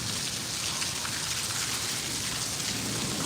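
Heavy rain, with a little fine hail, falls in Bathinda district as a dense, unbroken hiss of drops on surfaces. It stays steady and even throughout, with no voices.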